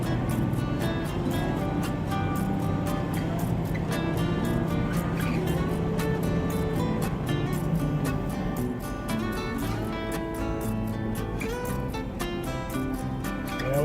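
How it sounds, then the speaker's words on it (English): Vehicles crawling in a traffic jam on Interstate 40 in New Mexico: a steady, close road and engine rumble heard from inside a vehicle, with frequent light ticks and rattles throughout. "Here we are in a traffic jam."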